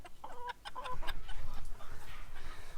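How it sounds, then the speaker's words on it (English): A rooster makes a soft series of rapid, low clucking and tidbitting calls close by, calling hens to food he has found, over a busy background of other chicken sounds. "That little noise Roscoe is making is him letting the girls know he found something good."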